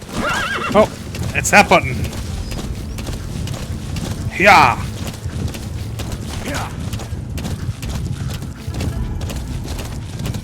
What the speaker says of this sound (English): They just see a running horse.